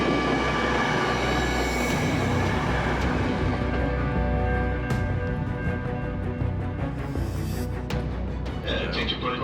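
A passenger train runs steadily on its way toward Ararat, a constant close rumble of wheels and carriage noise with a few brief squeals and clicks; a voice announcement plays over it.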